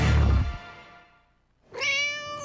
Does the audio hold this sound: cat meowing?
yes